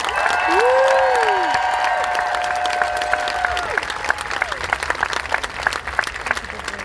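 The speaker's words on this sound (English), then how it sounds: "Please, a big round of applause for everyone." Steady applause from a large crowd at a Planned Parenthood rally in Atlanta, loud and sustained, with a few cheers and whistles fading as the clapping carries on.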